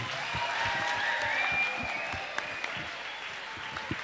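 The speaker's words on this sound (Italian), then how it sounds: "Un altro bel applauso," A school audience of students applauds their principal at the close of an event, a dense, steady clapping that thins toward the end and leaves a few scattered claps.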